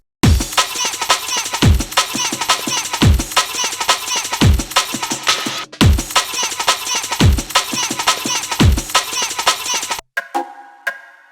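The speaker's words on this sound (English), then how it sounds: "I've just layered those two loops with a fat kick on each bar." Two layered jungle breakbeat loops with a fat kick on each bar, fast busy drum patterns with booming low thumps at regular intervals, loud and alone, stopping abruptly before a short sparse tail.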